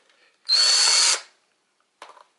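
A power drill whirs at high pitch for under a second, close and loud, driving a flathead screw on an 1898 Belgian double-barrel 12-gauge shotgun, followed by a brief faint click after a pause.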